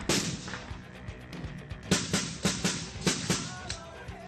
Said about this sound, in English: Insurgents fire from a nearby copse of trees.